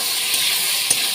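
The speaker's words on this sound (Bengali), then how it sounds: "নাড়াচাড়া করতে থাকবো। এটাকে একটু 5 মিনিট ভেজে দেবো।" Ridge gourd seasoned with salt and turmeric frying in a pan for jhinge posto, a steady soft hiss of oil with one faint clink of a stirring utensil, close and fairly quiet, no speech.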